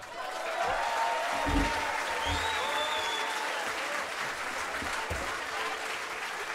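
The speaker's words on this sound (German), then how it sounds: "Einen großen Applaus" Concert audience applause, a steady dense wash of clapping from a crowd that holds evenly throughout at moderate volume.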